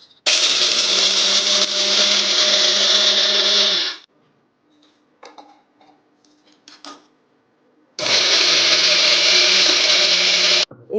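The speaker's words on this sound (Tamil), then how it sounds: "இப்போது இந்த ஹெல்தி பைட் செய்கிறதுக்காக நம்ம வறுத்து வச்சோம்ல அந்த கடலை, அதை வந்து நான் பொடி பண்ணிக்கிறேன்." A mixer grinder whirs loudly grinding roasted peanuts and dates in a home kitchen, two sustained bursts of about four and three seconds separated by quiet clinks and handling noises.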